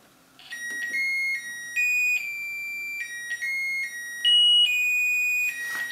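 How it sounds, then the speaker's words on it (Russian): An electronic motion alarm built from an electronics kit sounds in a steady sequence of sustained beeping tones that shift pitch every second or so, loud and close. "ты включай сигнализацию"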